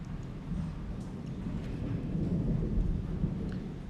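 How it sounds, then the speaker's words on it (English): Thunder rumbles in the distance, a low continuous roll that swells gradually and stays steady for several seconds, with faint rain-like hiss and no talking. "could you guys hear that thunder"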